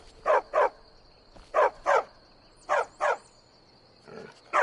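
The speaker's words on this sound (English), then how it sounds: "Stupid dog." Dog in the Skyrim VR video game barking in paired woofs, three clear double barks spaced evenly, fairly close and loud over a quiet outdoor ambience, with a fainter growl near the end.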